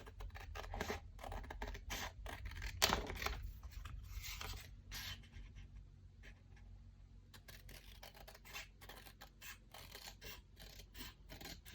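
Scissors snipping through paper in short, close crisp cuts, with quieter pauses between bursts of cutting.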